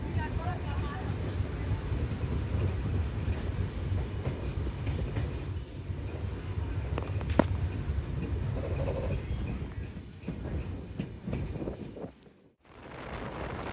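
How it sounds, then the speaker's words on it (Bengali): An express train rumbles steadily along the rails with a continuous low roar and faint rattling, heard from on board, with a brief dropout near the end. "এখন ট্রেনটি গ্যান্ডারিয়া অতিক্রম করছে"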